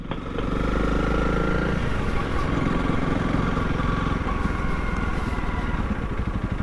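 A motorcycle engine runs at a low, steady idle as it rolls past, with a constant rumbling drone throughout.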